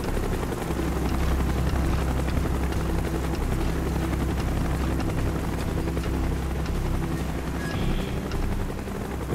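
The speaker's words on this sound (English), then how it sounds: "Chopper coming. Get your head down." In a Call of Duty: Black Ops mission, a helicopter approaches with a loud, dense rotor thump and engine drone filling the whole stretch, steady and close.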